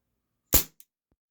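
An indoor airgun fires BBs: one sharp, close crack, then a much fainter second tick a fraction of a second later, with near silence around them.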